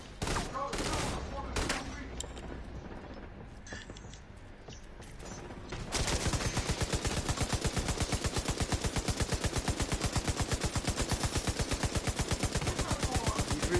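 Gunfire in The Division 2: scattered shots and clattering over the first seconds, then a dense, loud rapid-fire burst that hammers on evenly to the end.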